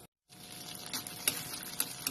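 Sliced eggplant dropped into hot oil, starting after a short silence with a soft, steady frying sizzle and a few sharper pops and crackles, close but quiet.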